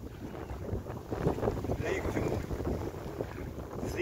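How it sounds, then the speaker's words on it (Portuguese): Harbour pilot's motor launch approaching across the water on an afternoon canoe sail, its broadband engine and hull rush steady and moderately close, mixed with wind buffeting the microphone and faint voices. "Lá vem a lancha do Prático."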